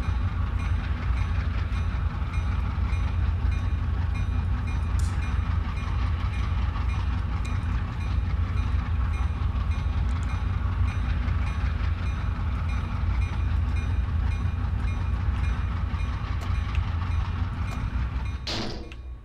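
A train in Train Simulator 2017 runs with a steady, dense rumble and rolling roar that holds loud and unchanging for nearly twenty seconds, a brief bright burst near the end, no voices.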